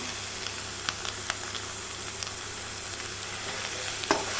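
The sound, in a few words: goat blood fry with coriander sizzling, stirred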